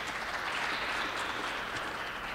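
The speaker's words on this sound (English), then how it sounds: "Let's give them a round of applause." An audience at a healthcare cloud computing panel applauds the panelists with a dense, steady wash of clapping that holds evenly throughout.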